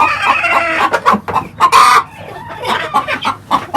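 Farmyard chickens cluck busily and close by in a coop with eggs, with overlapping squawks and a louder crowing burst in the middle, no voices.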